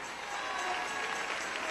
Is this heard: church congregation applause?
yes